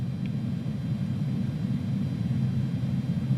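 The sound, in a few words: A310 airliner taking off, from video game MSFS 2020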